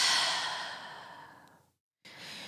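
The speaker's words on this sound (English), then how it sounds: "and breathe out" A person breathes out slowly during a breathing exercise, a soft, airy exhale that fades over about a second and a half before a short silence and a faint resumption of breath.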